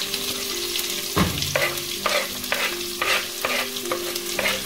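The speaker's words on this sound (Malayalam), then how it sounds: "ഇനി ഇതിലേക്ക് നമുക്ക് അരിഞ്ഞു വെച്ചിരിക്കുന്ന സവോള, പച്ചമുളക്, ഇഞ്ചി ഇട്ട് കൊടുക്കാം" Chopped onion, green chilli and ginger fry in a pan for masala dosa filling: a close, loud sizzle punctuated by a rhythmic series of spoon stirs and scrapes.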